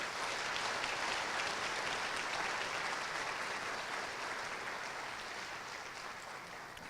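A law school audience gives a steady, dense round of applause to welcome a lecturer. The clapping stays loud and even throughout and fades slightly toward the end.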